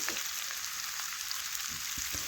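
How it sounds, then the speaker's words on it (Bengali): Mashed cauliflower filling fries in a pan, a steady soft sizzle with faint crackles throughout, fairly quiet and close. "ফুলকপির পুরটা আমি ভালোভাবে একটু কষিয়ে ভেজে"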